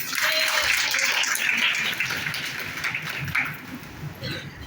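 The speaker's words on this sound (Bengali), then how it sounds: "জোরে হাততালি দিই" A congregation at a women's church service claps loudly and steadily for several seconds, a dense wash of applause that thins slightly toward the end.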